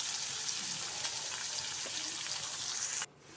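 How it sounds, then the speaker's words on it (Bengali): Chopped onions with green chili frying in a pan, giving a steady, even sizzle that stays close and continuous before cutting down sharply near the end. "পেঁয়াজটাকে দিয়ে আমি খুব ভালো করে ভেজে নেব।"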